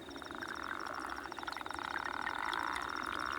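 Male Arabian toad calling at dusk in a desert wadi, a steady, fast, buzzing pulsed trill that swells slightly louder toward the end, with chirping insects in the background.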